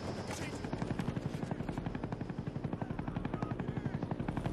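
A Huey helicopter in a shooter video game makes a loud, rapid rotor thump that holds steady throughout, mixed with scattered gunfire and faint battlefield voices underneath.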